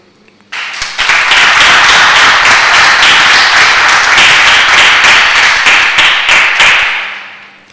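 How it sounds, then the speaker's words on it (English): Loud, sustained applause and clapping from an audience at a 2022 CSEC, CVQ, CAPE and CCSLC results release ceremony, rising quickly, holding steady for several seconds, then tapering off. "Everyone deserves a round of applause."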